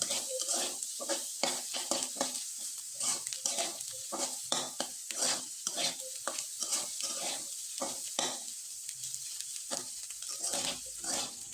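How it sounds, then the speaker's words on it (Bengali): Egg scrambled dry in a frying pan, a spatula scraping and stirring in quick, busy strokes over a light sizzle, close and steady throughout with no talking. "ডিমটা কিন্তু একবারে ঝুরি ভাজা তৈরি করলাম আর একটু শুকনো করে তৈরি করলাম"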